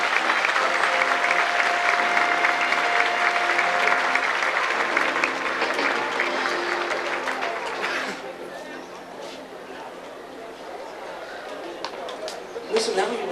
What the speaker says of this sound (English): How about a round of applause for Cindy and Christopher?